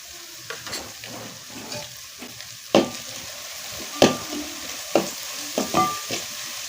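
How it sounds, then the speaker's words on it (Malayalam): Horse gram stir-fry (muthira thoran) being stirred in a frying pan with salt, giving a soft sizzle under a series of sharp spatula scrapes and knocks against the pan, close and with no talk. "പാകത്തിന് ഉപ്പും ഇട്ടുകൊടുത്ത് നന്നായി മിക്സ് ചെയ്ത് യോജിപ്പിക്കണം."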